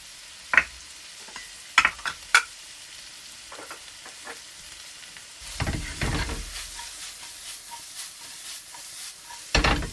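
Mushrooms added to leeks cooking in butter in a pan on medium-high heat, with a steady sizzle under scattered clacks and scrapes of stirring, close and moderately loud.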